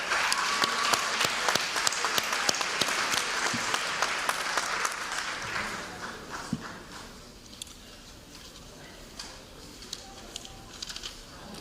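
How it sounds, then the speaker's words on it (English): A crowd at a school athletic banquet claps loudly for several seconds, then the applause thins out into scattered individual claps and fades. "a round of applause to those teams as a whole"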